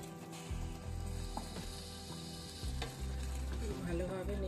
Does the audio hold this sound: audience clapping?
no